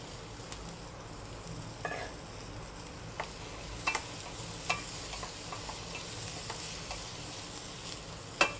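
Onions and apples sautéing in a pan give a soft, steady sizzle, with occasional scrapes and clicks of stirring scattered throughout and no talking.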